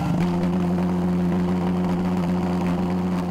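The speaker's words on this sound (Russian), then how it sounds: "Еще минута, и из сопла вырываются яркие языки пламени." A homemade jet engine runs with flames from its nozzle, giving a steady droning whir with strong low tones that holds evenly throughout, loud and continuous with no talk.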